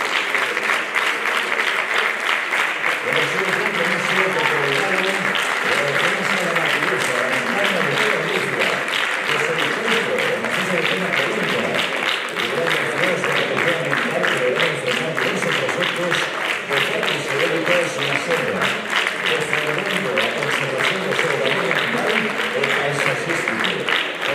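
Sustained, dense applause from an audience at a mountaineering federation award gala, a loud, even wash of many hands clapping that continues unbroken throughout, with voices faintly mixed in.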